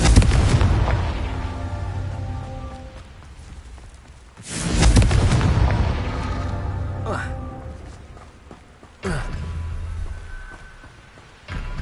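Confringo fire-blast spells cast in a Harry Potter wizarding game: two heavy booming explosions, each breaking suddenly and then decaying slowly, with a voice speaking throughout.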